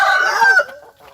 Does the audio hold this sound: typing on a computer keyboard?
no